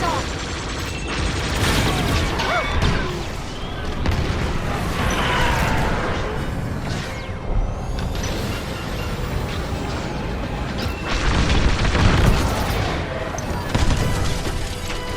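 Space combat in Star Wars: Squadrons with bombers blowing apart: a dense, continuous wash of booming explosions and crashes, heavy low rumble swelling around the middle and again near the end, loud throughout.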